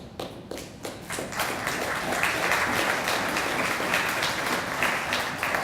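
An audience breaks into applause at the naming of the FPSO Liza Destiny, an offshore oil production vessel for Guyana, starting with a few claps and swelling into sustained, fairly loud clapping.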